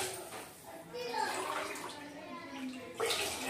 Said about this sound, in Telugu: మొత్తం 6 గ్లాసులు నీళ్ళు అయితే పోసాను